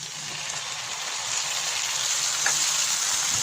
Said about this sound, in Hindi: अब मैं इसमें टमाटर शामिल करता हूँ